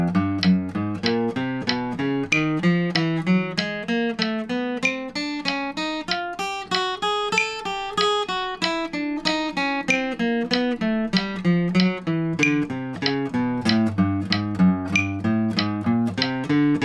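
Guitar alternate picking warm-up played in double time, a steady run of quick, evenly spaced plucked notes moving up and down a scale, close and clear with no talking over it.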